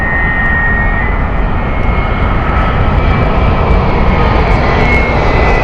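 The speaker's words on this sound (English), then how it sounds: "Coming in is 787-10, this one" A Boeing 787-10 airliner on approach at Heathrow, arriving from Chicago, gives a steady, loud jet engine roar with a faint high whine, continuous throughout with no talk.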